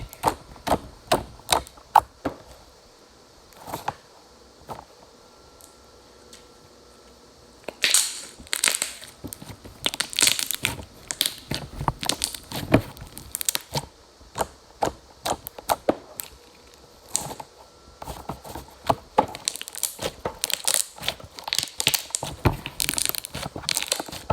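Crunchy slime is squeezed and crunched close up, a long run of sharp crackling pops and crunches in bursts with brief quiet gaps, no talking.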